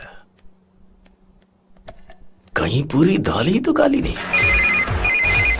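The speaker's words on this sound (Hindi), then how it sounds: "इस वक्त दीदी का फोन।" A phone ringtone trills in two short repeated bursts near the end of a Hindi-dubbed South Indian film scene, heard under a man's dialogue after a quiet opening.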